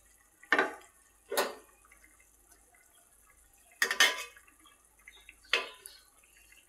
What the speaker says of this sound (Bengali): এই যে দেখো এই যে মাছগুলা দিয়ে দিচ্ছি।